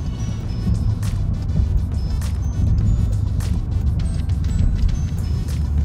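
A Jeep Trackhawk with oversized wheels and a failing transfer case creeps through a tight U-turn, its steady low engine drone and drivetrain hum continuous and close, with faint clicks and ticks above.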